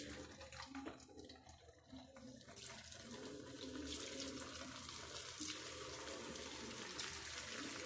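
Murukku dough sizzles in hot oil, a soft continuous frying hiss that grows a little stronger after the first few seconds, faint and alone without talk.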